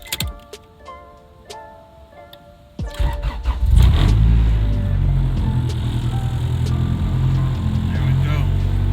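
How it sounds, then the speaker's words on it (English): Near the end of a fuel pump install, a car is heard. Faint clicks and a brief whine come first, then the engine cranks, catches and fires up about three seconds in. It settles into a loud, steady running rumble with light revving. "Let's see if this thing starts up now."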